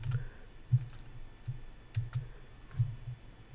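Soft, quick keystrokes on a computer keyboard, a few scattered light clicks over a faint background hum, close but quiet.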